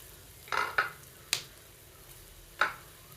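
Pieces of plantain frying in a pan as they are turned, a few quiet separate clinks and scrapes of a utensil against the pan over a faint sizzle, sparse and near.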